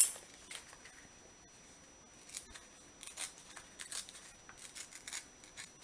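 Scissors snip paper for a Chinese thread book twist box, a few soft, quiet cuts with small crisp clicks scattered across several seconds in a quiet room.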